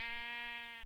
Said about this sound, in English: These damn sheep, man. What are you doing? Get out of here.